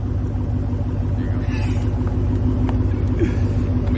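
A Ford Mustang GT 5.0 with loud exhaust idles with a deep, steady rumble, close and continuous, with faint voices in the background.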